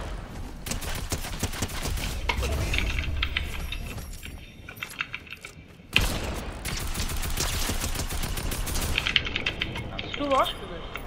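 Rapid bursts of gunfire in the Fortnite video game, clattering shots in quick runs under ongoing game sounds, with a voice talking throughout.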